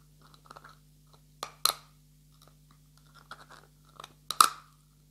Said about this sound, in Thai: วันนี้มานั่งกินตำแตงก่อน